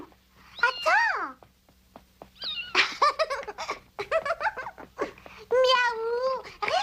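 A cat meows several times in rising and falling wails, fairly close, mixed in with a voice speaking between and over the calls.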